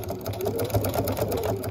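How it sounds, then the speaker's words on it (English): A sewing machine runs steadily, top stitching around the edge of a fabric bowl cozy, with a continuous close whirring hum and no pauses. "So we'll just go ahead and top stitch all the way around."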